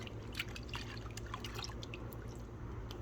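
Water in a wash bucket while a container is rinsed, heard as scattered soft drips and splashes over a steady low hum, faint and close.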